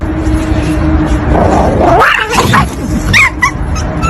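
A Rottweiler attacks a small dog, with loud growling, snarling and yelping close by in a brief chaotic scuffle.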